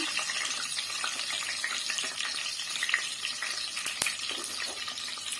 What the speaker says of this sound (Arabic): ننزل بيه كده في الزيت، ناخد له كده ايه تشويحه سريعه